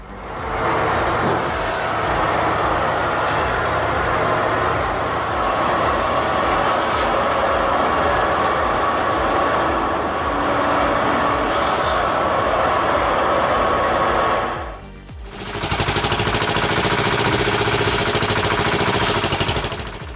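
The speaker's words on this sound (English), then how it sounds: "This custom saw, mounted on a material transport vehicle, is a great choice for getting the job done quickly." A custom-built firewood saw mounted on a material transport vehicle runs with a loud, steady mechanical roar and clatter. The noise dips briefly near the end, then resumes at full strength, with no voices.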